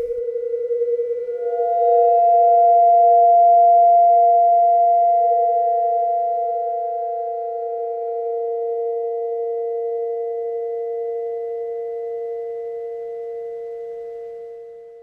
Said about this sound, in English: Just a creepy, eerie sound.